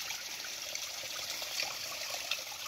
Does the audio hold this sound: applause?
no